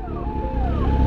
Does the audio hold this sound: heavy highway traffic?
yes